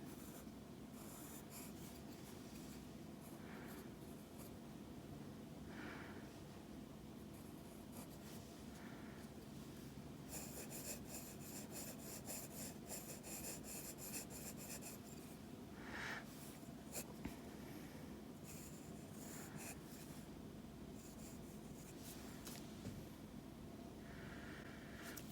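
Pencil drawing a tag on a Christmas package sketch on paper: soft, faint, continuous scratching and scribbling strokes, close up against a quiet hiss.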